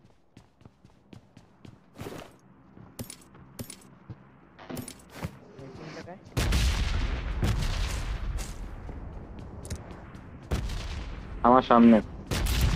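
Gunfire in the mobile shooter PUBG Mobile, played at 90 FPS: scattered sharp cracks and clicks, then heavier, denser bursts over a loud game rumble, with someone talking briefly between them.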